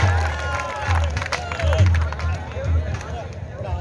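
Crowd at an open kabaddi match in Kasur, with loud hubbub and scattered clapping under continuous nearby chatter, swelling in short bursts through the moment.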